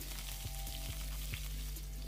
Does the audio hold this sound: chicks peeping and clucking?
no